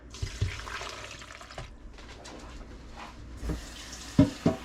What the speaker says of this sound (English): I'm gonna fill the water up to about as high as the cauliflower is